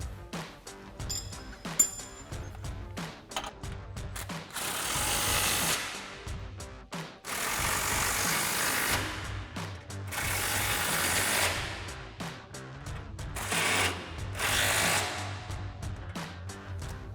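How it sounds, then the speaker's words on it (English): An impact wrench with an 18mm socket tightens front bumper bolts on a 2016-2018 Chevrolet Silverado 1500, giving several loud hammering bursts of a few seconds each, separated by short pauses and small clicks. "we can take our impact 18mm socket and 19mm wrench and tighten them all down"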